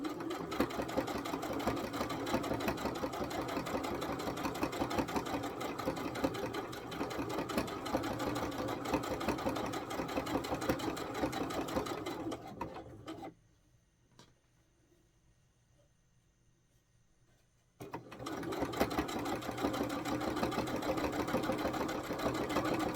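A sewing machine stitches rickrack onto a vintage-fabric dress for a Terri Lee doll, running in a steady close hum, stopping for about five seconds midway, then starting up again.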